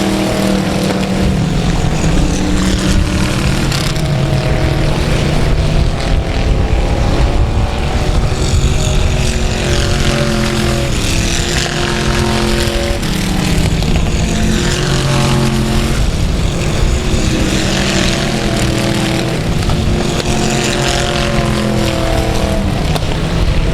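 Race cars roar continuously around the oval at South Texas Speedway, a loud layered engine drone with several cars rising and falling in pitch as they pass, constant throughout with no clear talk.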